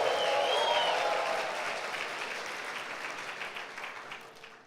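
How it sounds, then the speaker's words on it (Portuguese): A church congregation applauding during a Sunday service, a broad wash of clapping that starts strong and slowly fades over several seconds, with no voices over it. "dê um aplauso ao Senhor Jesus Cristo"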